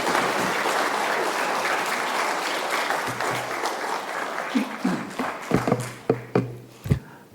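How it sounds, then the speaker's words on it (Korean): A church congregation at a Sunday service applauds to welcome a guest speaker, a broad wash of many hands that gradually thins out into a few last scattered, sharper claps. "나오실 때 박수로 한번 환영해 주시기 바랍니다"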